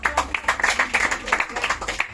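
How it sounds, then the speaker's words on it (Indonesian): A classroom group claps after a student presentation on spraying fire caterpillars, short uneven clapping under a voice speaking. "Oke, mantap, tepuk tangan dulu"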